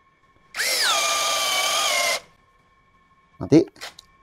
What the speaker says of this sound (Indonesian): Sekarang bor kipas tapi yang self drilling ya, yang ada ulirnya.